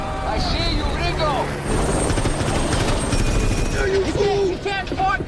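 In a scene from the 2010 film The A-Team, a helicopter thunders overhead amid bursts of gunfire and loud shouting, a dense, chaotic action-movie mix that stays loud throughout.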